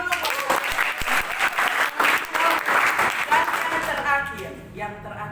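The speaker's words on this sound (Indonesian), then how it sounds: "Tepuk tangan dulu." Crowd applause at an awards event, dense continuous clapping that thins toward the end as a voice begins speaking.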